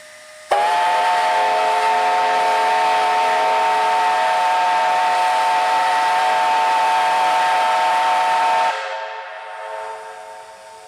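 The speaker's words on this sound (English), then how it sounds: "locomotive 12A was getting ready for the whistle salute after the minute silence" Steam locomotive 12A sounds a single long whistle salute at an Anzac Day dawn service, a loud, steady, close-up blast with a hissing steam edge that holds for about eight seconds before cutting off, leaving a fading hiss.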